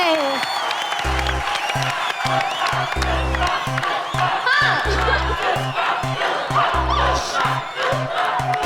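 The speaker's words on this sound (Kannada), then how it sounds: "ಒಂದ್ ಜಬರ್ದಸ್ತ್ ಚಪ್ಪಾಳೆ ರಿಷಿಗೆ" A studio audience at a Kannada TV game show claps and cheers in a dense, sustained wash over a loud pulsing music beat, with a voice briefly audible in the mix.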